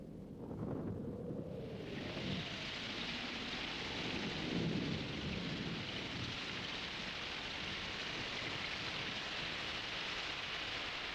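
Steady heavy rain with low rolling thunder throughout a Moomin family cartoon scene, loud and continuous, with a rumbling swell near the middle and no talking.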